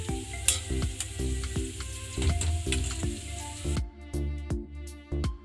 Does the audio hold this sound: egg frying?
yes